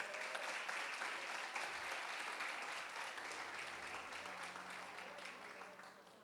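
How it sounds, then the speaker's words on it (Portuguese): A church congregation applauds together, dense and fairly distant clapping that fills the room and slowly tapers toward the end, with a low sustained tone appearing underneath. "Você pode aplaudir Jesus por isso?"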